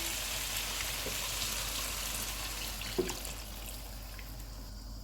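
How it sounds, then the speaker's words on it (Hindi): Water runs into a pot of sizzling spices for vegetable pulao, a constant, rushing wash with one small clink partway through and no talking. "2 मिनट के बाद इसमें पानी डालेंगे जितने में चावल डाल जाएं।"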